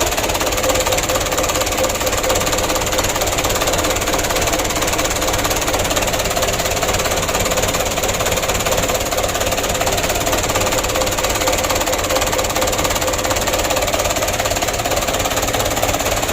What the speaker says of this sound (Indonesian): berhubung mesin ini baru hidup